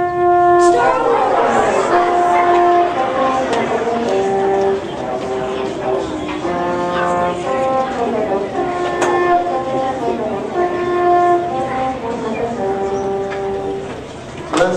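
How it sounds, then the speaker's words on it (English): French horn played at a school band introduction: sustained, steady tones rising and falling in a slow melodic line over about fifteen seconds, with faint room noise. "So anyway, this is the sound of the French horn."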